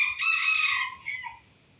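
A Benjarong bantam rooster crows close by, one loud strained call with a rising start, a sustained middle and a drawn-out falling tail that fades to quiet, with no talking.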